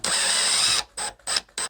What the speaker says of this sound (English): use some posi screws if you can to secure the handles into place